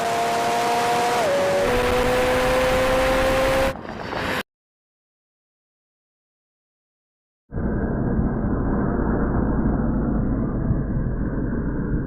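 Supercars, including a McLaren 720S, McLaren 750S, Lamborghini Revuelto and Ferrari 296 GTB, roll-race from 50 in third gear, loud engine tones rising in pitch, then silence, then a sustained distant roaring drone.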